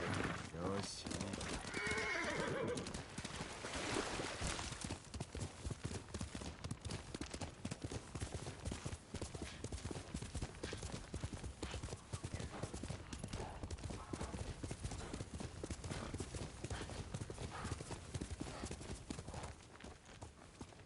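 In the Ghost of Tsushima video game, a horse gives a loud whinny, then its hooves keep clip-clopping steadily at a trot for a long stretch, with someone talking over it.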